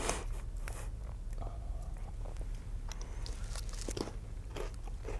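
Close, steady crunching and biting of crackers spread with MRE icing, dense crackly chews running continuously with no talk.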